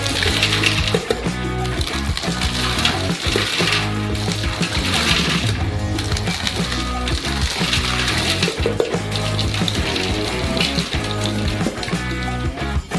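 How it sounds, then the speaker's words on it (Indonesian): Dry ice squeaks and screeches where a hot pan presses down on it while a giant DIY Mentos candy is made, a loud, continuous, dense hissing squeal that barely lets up. "Es panas menguap dengan sangat cepat pada titik kontak dan mengeluarkan suara mencicit yang lucu."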